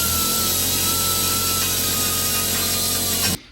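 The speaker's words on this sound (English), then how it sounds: "we're just gonna auger all of these holes out towards the frame until we can fit all the bolts in" Power tool running loud and steady at close range while augering out bolt holes toward a Jeep frame, a continuous high whine that cuts off abruptly at the end.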